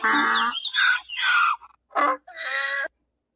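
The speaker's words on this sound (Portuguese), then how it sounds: "Primeiro a gente viu ali o som de um pássaro" A few short, harsh bird calls in quick succession, close and fairly loud, with brief gaps of silence between them.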